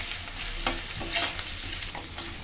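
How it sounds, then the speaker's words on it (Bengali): Onion and garlic frying in a pan for a prawn kalia, stirred with a utensil; steady close sizzle with soft scraping strokes recurring every half second or so, no talk. "পেঁয়াজ রসুনের কাঁচা গন্ধটা যাওয়া পর্যন্ত একটু নেড়ে ছেড়ে নিলাম।"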